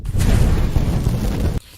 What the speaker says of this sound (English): the build-up right before the explosion